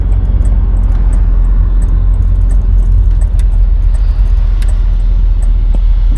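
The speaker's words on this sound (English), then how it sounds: "Once these cars go by" Steady road rumble of cars going past on a straight stretch, heard from inside or beside a 1967 Chevelle SS, a continuous loud low hum with no talk.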